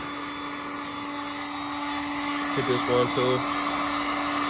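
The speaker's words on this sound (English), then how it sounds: "Hit it with a heat gun." A heat gun blows steadily on car badges with a constant airy whir and a clear high electric hum, fairly quiet, while someone speaks briefly partway through.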